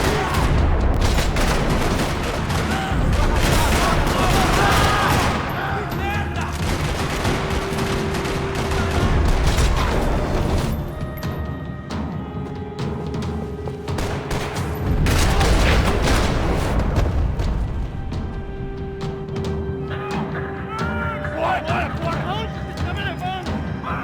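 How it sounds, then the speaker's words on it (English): Gunfire in a parking lot in the video game Max Payne 3: dense bursts of automatic weapons and booming shots, loud and near, in waves, with voices in between. "Another parking lot rattling with gunfire."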